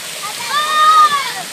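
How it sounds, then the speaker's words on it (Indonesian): A child splashing while swimming in a hotel pool; a brief, close burst of water sloshing and splatter lasting about a second, with a voice heard nearby. "Odin lagi berenang."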